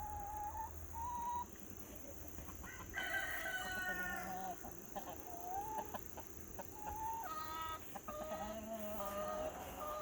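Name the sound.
chickens clucking at backyard chicken coop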